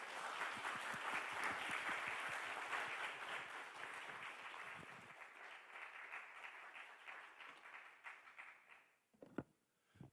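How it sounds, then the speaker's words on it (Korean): A lecture audience at a broadcasting station's anniversary special talk claps warmly to welcome a former small-business administration head and professor, loud and dense at first, then thinning to scattered claps and a few knocks and shuffles near the end. "여러분 뜨거운 박수로 환영해 주시면 감사하겠습니다"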